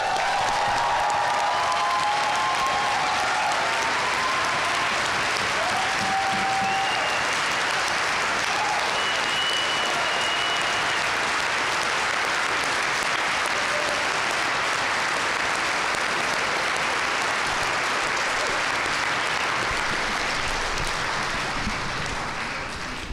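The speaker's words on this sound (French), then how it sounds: "J'ai rarement autant applaudi, je pense." Sustained applause from an audience at a political gathering following a speech, a dense steady roar of many hands clapping that holds loud for over twenty seconds before tapering slightly at the end.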